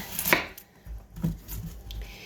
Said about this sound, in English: So I'll show you how to chop one or cut one onion